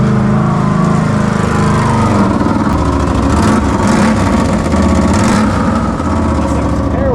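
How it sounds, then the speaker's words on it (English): Engine of a crashed Can-Am running with a broken exhaust, a loud, close, rough and steady blatting drone with no letup. "As you can hear, she's got a little exhaust problem."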